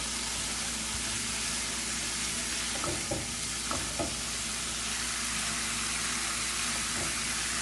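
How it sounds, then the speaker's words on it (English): Coconut curd fries in a pan over low heat, giving a steady, dense hiss and crackle with a few soft stirring knocks, close and continuous with no talking. "we're going to fry it up in a pan under low heat"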